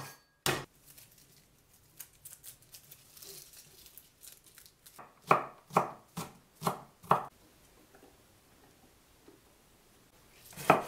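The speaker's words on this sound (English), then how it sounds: "Cut the aromatics into small chunks." A knife chops shallots and garlic on a board: after a few soft scattered taps, a run of five crisp, evenly spaced chops comes through close and clear, then one final sharp chop at the end.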